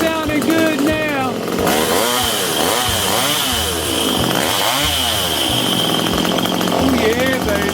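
A 1997 Johnson 115 hp outboard motor running after repair, a loud, close, steady buzzing engine drone with revving swells that rise and fall several times, and someone speaking over it.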